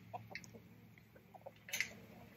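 Hens in a chicken coop give soft, scattered clucks and brief squawks, faint and close, with quiet shuffling and no talking.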